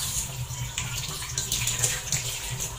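Running tap water splashes steadily and up close as cleaned fish is washed again before cooking, a continuous gushing flow with small shifts in the spatter.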